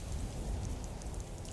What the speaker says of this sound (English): I can see a little bit of rain.